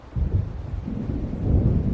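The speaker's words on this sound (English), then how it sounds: "It seems there's a storm coming." Low, rolling thunder of an approaching storm in the Alan Wake Remastered video game, a rumbling swell that rises and falls over two seconds without any voices.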